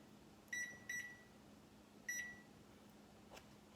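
A kitchen timer gives three short electronic beeps while being set, two in quick succession and then a third after a pause, fairly faint over a low steady kitchen hum.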